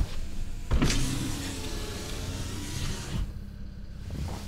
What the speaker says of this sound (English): Powered windows.